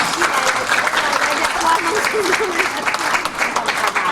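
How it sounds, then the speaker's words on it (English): An audience at a culture show in Melbourne claps in sustained, dense applause that holds steady throughout, with a person talking briefly over it. "please welcome her with a big round of applause"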